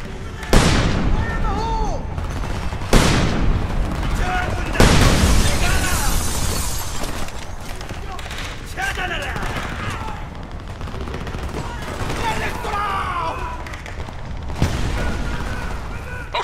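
Combat in the shooter game Homefront: a grenade explosion and bursts of gunfire, with several sharp booming blasts spaced through a dense, noisy battle soundscape, and voices shouting under the chaos.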